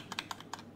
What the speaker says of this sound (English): So now at the moment we are typing in the name of the file in the address bar.